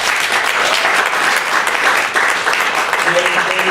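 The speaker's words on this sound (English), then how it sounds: "big round of applause to Brian," An audience at a regional best-practices gathering claps in sustained applause, a dense, steady wash of hand claps that stays loud from start to finish with no pauses.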